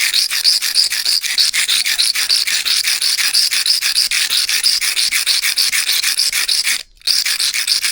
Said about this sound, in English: This is just a paint scraper, an old paint scraper that I have.